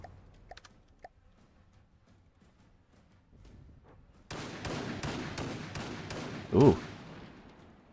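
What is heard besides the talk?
90mm cannon turret firing bursts in From The Depths video game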